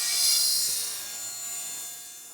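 A saw rips cedar 1x6 boards into 1-inch strips, giving one brief, steady rasping hiss that fades slightly toward the end of the cut.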